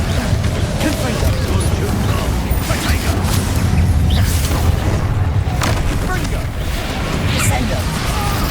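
Confringo blasting curse spells in Hogwarts Legacy combat, a loud continuous barrage of booming explosive blasts and crashes layered over a rumbling battle din, with voices shouting amid the noise.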